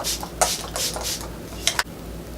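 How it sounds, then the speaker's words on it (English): Several soft hissing bursts of a MAC Fix Plus setting spray misted onto a face, short puffs spaced apart, close by with a quiet background. "I'm just going to spray my face with my MAC Fix Plus"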